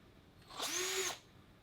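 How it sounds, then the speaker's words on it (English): Power drill spinning a 3/16 drill bit into wood, a single short burst of about half a second with a rising then steady whine, close and loud, alone with no talk. "when I start drilling, I want to make sure I keep the drill vertical"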